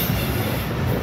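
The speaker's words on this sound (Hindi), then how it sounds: "हिरक रेलवे ब्रिज के ऊपर से हमारी ये ट्रेन गुजरेगी।" A Pakistan Railways train on the Quetta line running near the Hirok railway bridge, a loud, steady rumble of wheels and carriages with a constant roar close by.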